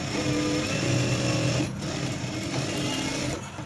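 A sewing machine stitching a blouse, running steadily and close at hand for a few seconds with a slight dip partway through.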